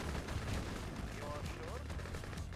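Soviet flak cannon fire in the Red Alert 2 video game, heard as dense, rapid bursts of gunfire and explosions in a busy battle mix, with unit voice lines over the top.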